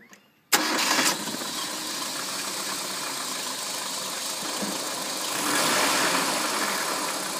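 A petrol car engine cranks and catches after a quiet moment, then settles into a steady close idle that rises slightly in level toward the end.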